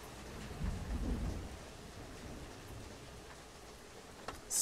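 Steady rain in the video game Don't Knock Twice patters with a low rumble of thunder early on, then a sharp hiss near the end.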